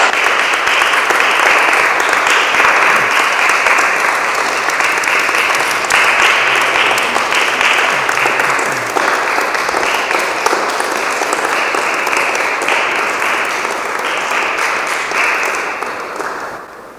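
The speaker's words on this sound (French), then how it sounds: "Vous pouvez l'applaudir." A large audience at a medal award ceremony claps steadily in sustained, dense applause that carries on for a long stretch before tapering off at the end.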